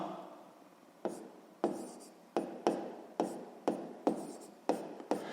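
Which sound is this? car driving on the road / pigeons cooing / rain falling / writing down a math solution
writing down a math solution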